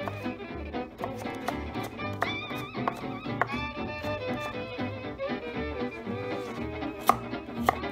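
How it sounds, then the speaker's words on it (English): Knife cutting a vegetable into julienne strips on a board: rapid, even chopping taps in a steady rhythm, close and fairly quiet, with faint background music underneath. "We're gonna cut this into a julienne."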